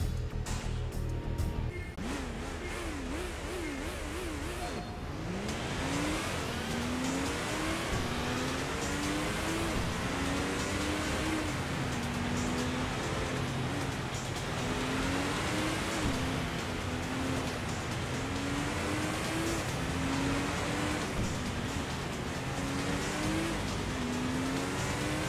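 Race car engine in the Sega GT video game, loud and continuous, climbing in pitch through repeated short gear changes in a rising, dropping pattern over a dense roar of tyre and road noise.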